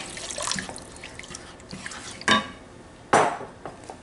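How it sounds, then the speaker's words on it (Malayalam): Cooled boiled water is poured into a Kerala-style mango pickle: a faint, wet trickle in a kitchen, broken by two sharp clinks of a utensil against the container, with no talking. "തിളപ്പിച്ചാറിയ വെള്ളം ഞാൻ ഒഴിച്ച്"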